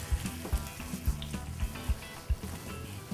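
Caramel and apples for a tarte tatin bubble and sizzle in a hot pan with the burner off, a steady crackling fry broken by irregular soft pops and stirring thumps, close up and with no talking.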